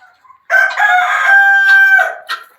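A large rooster crows loudly and close by in a garden, one long drawn-out call followed by a short clucking tail, with no talking.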